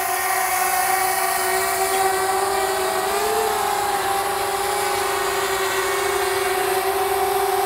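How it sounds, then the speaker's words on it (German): A DJI Mavic Air 2 drone approaches to land on a cardboard box, its propellers giving a loud, steady whine that bends slightly in pitch midway and holds continuously throughout. "Die Drohne kommt."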